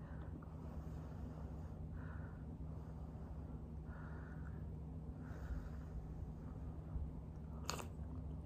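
Quiet slurping and chewing of piping hot soup, soft intermittent mouth sounds over a steady low background hum, with no talking.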